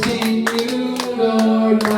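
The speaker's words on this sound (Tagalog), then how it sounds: "Okay, down. Palakpak!" Congregation clapping in rhythm during a Sunday church worship service, sharp claps landing roughly every half second over sustained sung or played musical tones.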